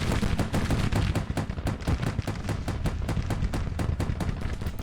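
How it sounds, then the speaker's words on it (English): Gatling guns fire rapid, continuous bursts in Grand Tactician: The Civil War, a dense rattle of closely packed shots that stays loud and steady throughout, with deep booms underneath. "They're being fired into their flank by Gatling guns."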